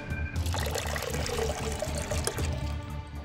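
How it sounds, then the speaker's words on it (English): Warm water being poured into a container, a close continuous splashing trickle that holds steady throughout, with no voices over it. "Add warm water."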